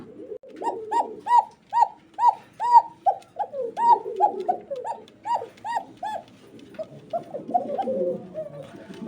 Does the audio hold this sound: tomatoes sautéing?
no